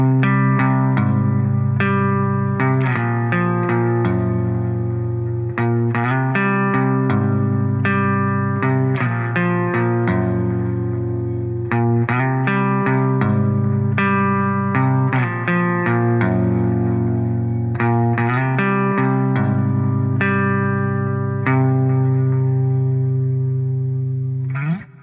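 Clean guitar run through the Clean Void preset of the Polychrome DSP Graphene plugin, with chorused, shimmering arpeggiated notes and sustained chords ringing continuously and evenly with no talking.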